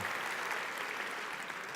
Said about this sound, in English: give yourselves a round of applause for being such dedicated people